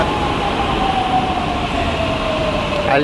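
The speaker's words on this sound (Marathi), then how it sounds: "आली आपली ट्रेन आली" A metro train rumbles loudly into the station, a steady roar with a high whine sliding across it and brakes squealing near the end.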